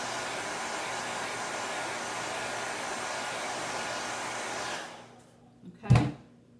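A handheld dryer blows steadily on chalk paste on a faux gift craft, a loud, even whoosh that runs for several seconds and then cuts off, followed by a single short knock.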